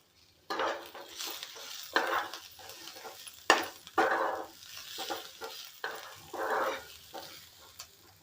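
Fresh green pigeon pea kernels fry in oil while being stirred. Repeated bursts of close sizzling and scraping from the pan rise and fall, with no talk.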